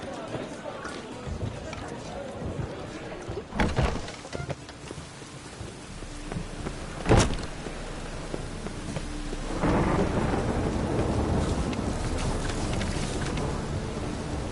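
Rain pours steadily during a thunderstorm in The Witcher game, with thunder cracks near four and seven seconds and a heavier downpour from about ten seconds; a voice talks over parts of it.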